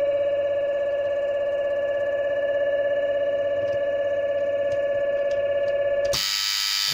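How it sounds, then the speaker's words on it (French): A motor-fault alarm on an electrical control panel rings with a steady, loud electronic tone that holds unchanged for about six seconds, then cuts off abruptly into a burst of noise. "On est gêné par le son de la sonnerie."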